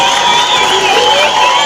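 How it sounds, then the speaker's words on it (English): A large crowd at a Bobi Wine political rally in Nebbi, Uganda, cheers and shouts in a loud, continuous roar that never lets up, with children's voices mixed in. "Please clap for yourselves."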